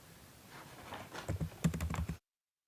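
Keys clatter on a computer keyboard while data is entered into Tally Prime accounting software. A fast run of close, crisp keystrokes builds to a dense burst and then stops abruptly.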